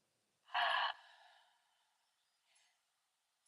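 One deep breath during a calm tarot card reading: a loud, close exhale that rushes out and trails away over about a second, followed by quiet and a faint later breath.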